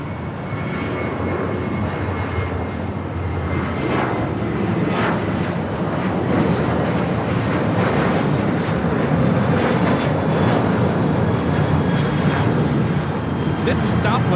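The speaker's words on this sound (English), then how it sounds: "This is Southwest Airlines 3263 taking off to Las Vegas on the 737-700" At Los Angeles LAX, a Southwest Airlines Boeing 737-700 bound for Las Vegas takes off with a loud, sustained engine roar that stays strong from start to finish, while indistinct voices sit underneath.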